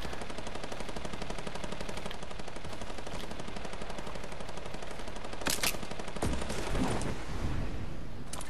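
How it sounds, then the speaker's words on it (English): Rapid, continuous automatic gunfire from a 50v50 multiplayer shooter video game, loud and sustained throughout, with a few heavier bursts near the end. "Shooting over here."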